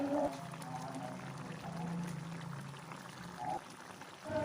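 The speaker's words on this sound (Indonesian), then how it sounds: "Tambahkan saus tomat sebanyak 2 sendok makan." Tomato sauce poured into a pan of bubbling sauce, a soft, quiet gloopy pour over a low simmer with faint clinks, fairly close.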